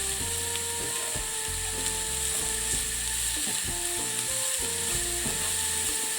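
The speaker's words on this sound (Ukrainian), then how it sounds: "Коли цибуля вже добряче зм'якла, але ще не підрум'янилася, додаємо сюди ж моркву і готовимо до майже готовності." Carrot and softened onion fry in a pan with a constant hissing sizzle, steady and fairly loud, under a repeating stepped musical tone.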